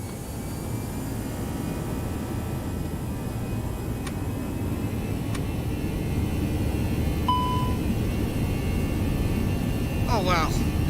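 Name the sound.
Airbus A319 engines spooling up in flight simulator game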